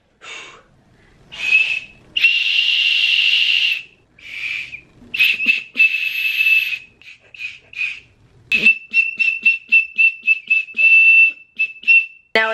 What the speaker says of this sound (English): Yay, yes, keep whistling.